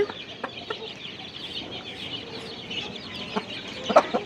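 Several naked neck chickens clucking softly in the distance, scattered short calls over a quiet outdoor background on a farm.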